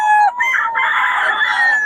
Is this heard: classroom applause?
no